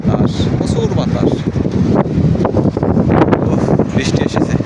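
Strong wind gusting through a heavy rainstorm in Saudi Arabia, a loud, steady roar that buffets the microphone, while a person talks over it.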